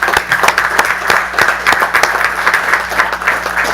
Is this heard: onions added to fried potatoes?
no